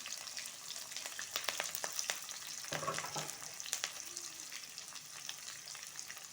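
Onions and curry leaves fry in a pan, a faint, soft sizzle broken by sharp crackles and a few scraping stirs, no one speaking.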